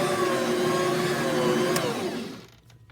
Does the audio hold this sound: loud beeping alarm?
no